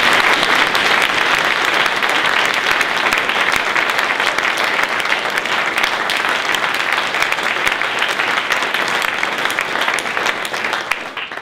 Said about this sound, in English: well worth a round of applause, I think